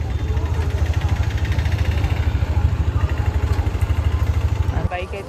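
A Hero Xtreme motorcycle, just back from a ride and parked under a tree, idles with a close, even low chugging pulse that cuts off abruptly near the end.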